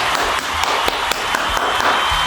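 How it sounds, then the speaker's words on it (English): A dense round of applause with quick overlapping claps, steady and fairly close throughout, in a casual makeup tutorial setting. "Round of applause"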